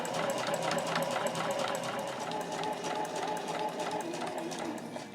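A sewing machine stitches up a pocket on a tote bag, a close, steady rapid rattle that carries on without a break throughout.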